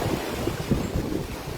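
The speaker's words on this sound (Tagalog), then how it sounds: "Grabe kusog sa baod man." Strong sea waves surge onto a beach at Hilongos, Leyte, in a dense, rough roar mixed with heavy wind buffeting the microphone.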